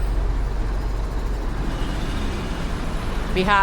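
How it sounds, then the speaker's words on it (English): Busy downtown street traffic in Guanajuato, Mexico, as a steady close roar of passing cars and buses. It fills the whole stretch at an even level, with a brief higher-pitched squeal near the end. "streets can get quite noisy down here."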